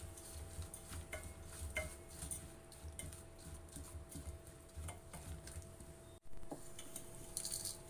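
Laddu mixture being stirred by hand right after sugar syrup is poured in, giving steady soft scraping and squishing with light clinks against the pan, moderately close with a faint background hum and no talking.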